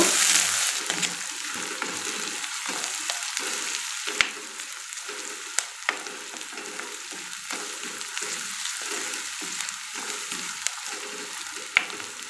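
Onions frying in oil in a pan, a steady close sizzle broken by rhythmic stirring scrapes and a few sharp clinks of a utensil against the pan.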